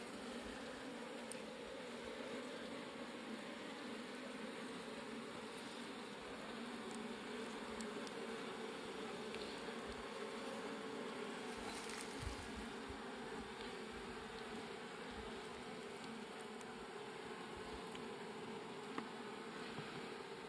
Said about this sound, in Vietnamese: Anh em thấy không, ong nó đã mạnh rồi